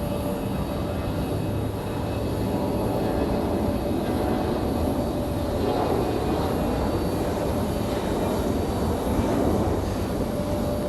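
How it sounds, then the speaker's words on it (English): A United Airbus A321 airliner arriving at Raleigh-Durham International Airport from Washington Dulles, a steady, loud jet engine roar holding evenly throughout with no talk. "United coming in from Washington Dulles. It's going to be an A321."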